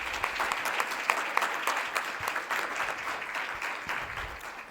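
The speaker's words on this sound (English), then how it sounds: "So a round of applause, please" Conference audience applauding, a dense, sustained patter of clapping from a sizable crowd that stays steady and slowly fades slightly, with no voices over it.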